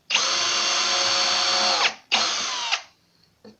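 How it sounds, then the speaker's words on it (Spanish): A power drill fitted with a wood bit bores a pilot hole through wood in two close, loud bursts, a long whine then a shorter one, ending with a brief faint buzz. "Busco el centro y hago el hueco hasta traspasar el material."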